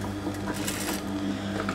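A sewing machine stitches a school bag accessory, a close, steady mechanical hum with a constant low drone and faint rapid ticking throughout, with no talk.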